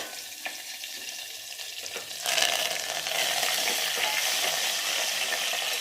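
Coriander and curry leaves sizzle and crackle in hot oil with fried red chillies, a steady frying hiss that jumps louder midway as the leaves hit the pan, with faint stirring.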